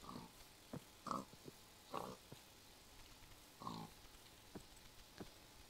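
Several short, separate pig grunts from a video game pig, each a brief burst with gaps between them, fairly faint and with nobody talking over them.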